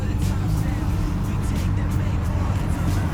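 Loud, steady engine roar from an old car with a turbo, its flutter merging into a dense continuous rumble that runs unbroken and close throughout.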